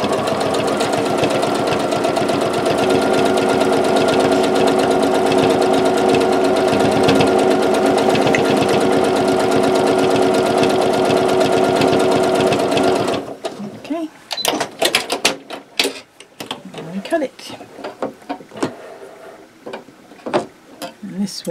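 A sewing machine stitches in the ditch along a quilt's binding with a loud, steady, close motor drone for about thirteen seconds, then stops, leaving scattered clicks and handling noises.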